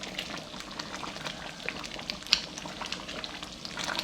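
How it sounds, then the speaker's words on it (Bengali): Khatua being stirred in a pot over a raised flame, a soft continuous bubbling and sizzling with faint scraping, quiet and close, with no talking. "আপনারা দেখছেন আমি এটাকে নেড়ে দিচ্ছি ভালো করে যাতে নিচে লেগে না যায়।"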